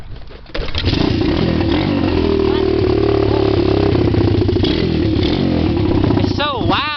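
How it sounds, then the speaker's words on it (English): A dirt bike engine is kicked over, catches and runs loud and close, rising and falling as it revs over several seconds while people talk nearby. "Sounds like an actual motorcycle. That's so loud."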